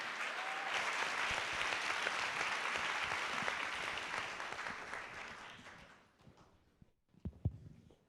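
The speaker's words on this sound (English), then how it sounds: "let's give a round of applause for our panel" An audience applauds a discussion panel after a documentary film event. The sustained, full clapping fades out after about six seconds, followed by a few quiet thumps and handling noises.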